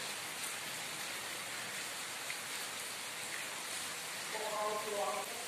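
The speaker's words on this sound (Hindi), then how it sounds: "बारिश चल रही है" Steady winter rain falls outdoors with an even, dense hiss of drops on surfaces, continuous and fairly soft throughout, with a faint tonal sound briefly rising near the end.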